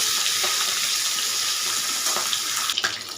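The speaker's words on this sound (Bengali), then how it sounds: "তেল গরম হয়ে গেছে আমি এখন লবণ আর হলুদ মাখা মাছটা দিয়ে দিচ্ছি" A fish head rubbed with salt and turmeric fries in hot oil, giving a loud, continuous close-up sizzle and hiss that turns more spattery toward the end.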